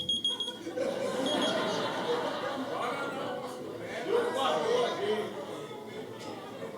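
An alarm goes off during a church sermon, ringing steadily for several seconds while the congregation murmurs and chuckles underneath.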